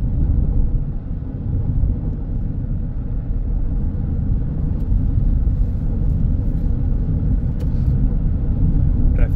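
Traffic rolls along the Samruddhi Mahamarg expressway in a continuous low rumble of engines and tyres, steady and fairly loud, heard from inside a moving vehicle with no talk.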